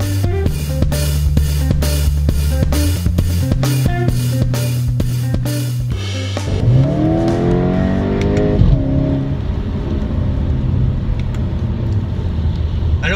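Skoda Octavia RS 230 under way: a rhythmic pulsing beat drops away into an engine revving and accelerating through rising gear sweeps, then a steadier cruising hum with road noise.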